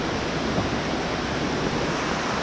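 Steady, broadband rushing of a countryside river fills the whole moment, a constant roar without breaks, close and fairly loud.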